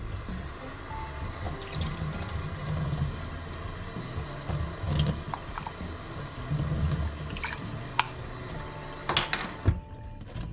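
Water poured from a tap onto flax seeds in a kitchen, a steady running splash with a few clinks of utensils and bowl near the end.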